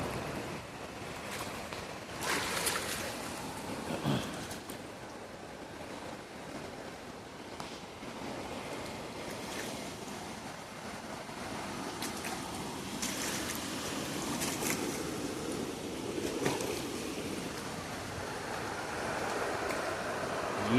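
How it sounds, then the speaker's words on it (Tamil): Steady rushing of a deep, fast-flowing river moving at about 40 km/h, a continuous broadband roar with gusts of wind buffeting the microphone and no voices. "தண்ணி எவ்வளோ ஃபாஸ்ட்டாக போகுதுன்னு பாருங்கள்."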